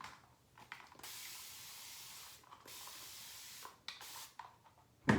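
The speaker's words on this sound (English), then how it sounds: "I just sprayed myself in the eyes" An aerosol can sprays in two fairly long hissing bursts close by, with short clicks before them and a knock at the end, in a quiet room during a shave.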